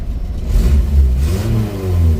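An Isuzu Trooper 4x4 engine runs at high idle with the air conditioning on, a close, loud, steady mid-pitched drone that swells slightly.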